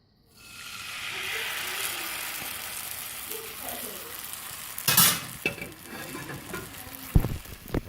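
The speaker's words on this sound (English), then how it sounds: "I got this leftover egg mix in the pan. I'm going to make it into an egg." Leftover egg mixture fries in a cast iron pan with a soft, steady sizzle, interrupted by a few brief scraping and clinking utensil sounds near the end.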